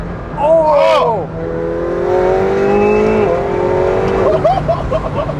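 2020 McLaren 720S Spider with a twin-turbo V8 accelerating: a loud, close engine roar climbing through gear changes with rising and falling revs, while a voice talks over it.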